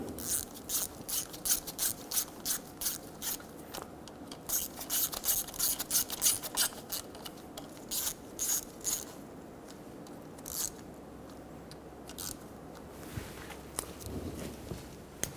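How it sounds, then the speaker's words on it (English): A ratchet snugs transmission pan bolts on a 2000-2007 Ford Focus, making quick bursts of sharp, close clicking that repeat in short rhythmic runs with brief pauses between them. No voices are heard. "we're going to go around and snug them all against the pan."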